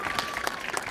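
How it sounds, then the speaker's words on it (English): Brief burst of audience applause at a West Bend city proclamation event for Courtney Rummel Day, dense clapping from a room of people, steady and moderately loud for under a second. "let's give him a round of applause."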